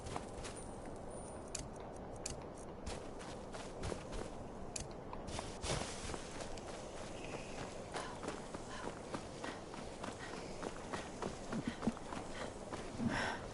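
A horse walks in Skyrim, its hooves giving a quiet, steady clip-clop that runs through the whole stretch with no talking.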